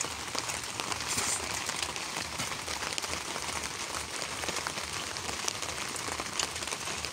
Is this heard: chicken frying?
no